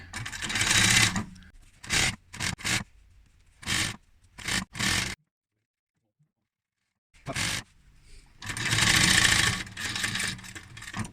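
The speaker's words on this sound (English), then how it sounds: "So now all we've got to do is sew all this up." A sewing machine stitches a zippered cushion cover in several bursts: a long run, a series of short stop-start stitches, a pause of near silence, then another sustained run, close and clear with no voices.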